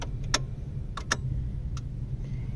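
A Suzuki Alto 660cc car engine has just started and runs with a low, steady rumble. A few sharp clicks and ticks sound over it, heard alone without talking.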